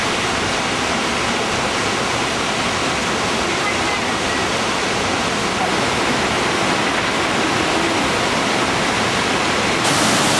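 Steady, dense roar of a waterfall on a day hike, a continuous broadband rush filling the whole stretch at constant loudness with no pauses or talk.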